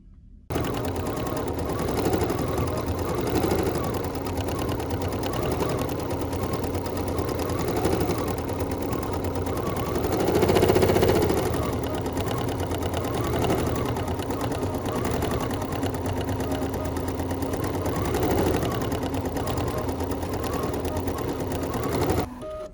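An embroidery machine stitching out a sampler design, a steady fast mechanical chatter running continuously throughout at moderate loudness, with slight swells in intensity.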